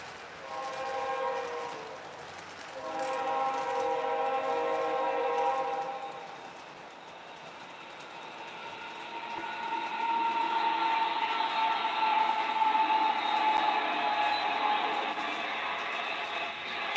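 A freight train led by an ET44 locomotive passes on the CN Waukesha subdivision at Slinger, sounding its multi-tone horn in two blasts and then a long sustained one over a low rolling rumble.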